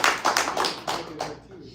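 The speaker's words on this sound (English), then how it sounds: "Give her a round of applause." A small audience claps a handful of sharp, distinct times over about two seconds, the claps close and uneven, with voices murmuring underneath.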